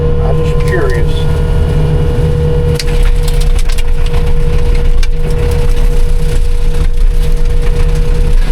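A Chinese wood mulcher on a machine running standard hydraulic flow chews through wood, making a loud, steady roaring grind with an engine drone beneath and occasional cracks of splintering wood.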